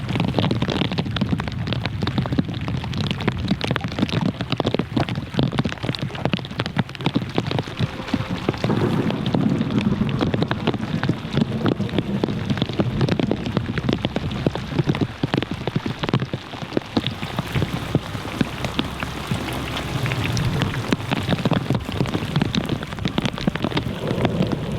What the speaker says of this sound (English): And the rain's hammering down, and we heard some thunder just a little earlier